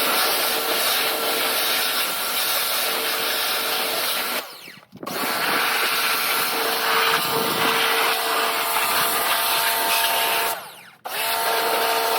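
A powerful blower roars loudly and continuously as it dries water off a Ducati Scrambler motorcycle after washing, cutting out briefly twice before starting up again, with no talking.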